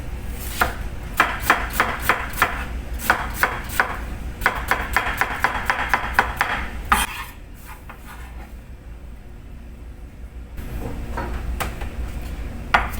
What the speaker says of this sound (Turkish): Şimdi soğanlarımızı doğruyoruz.